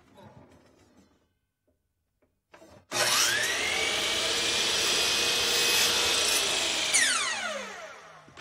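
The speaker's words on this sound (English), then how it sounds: "then I'll cut it on the miter saw using my zero clearance insert" A miter saw fitted with a zero clearance insert cuts through a wooden dowel, spinning up after a short pause and then running loud and steady for about four seconds before winding down.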